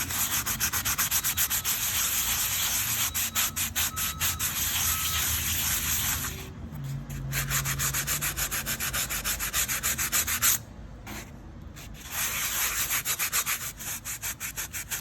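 A sprocket is being hand sanded ahead of a custom paint job, giving a steady, close scratchy rubbing that runs almost continuously, with two short pauses partway through.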